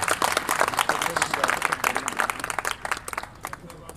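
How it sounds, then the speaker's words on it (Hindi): Enthusiastic audience applause for a doctor at a welcome event in Jind, India: dense, steady clapping that fades somewhat toward the end, with voices mixed in. "आप एक बार जोरदार तालियां हमारे डॉक्टर गजेंद्र के लिए"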